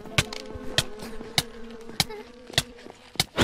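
A giant mosquito in the Ao Oni mansion horror game gives off a steady droning buzz, broken by repeated sharp clicking thuds at an uneven rhythm, close and moderately loud.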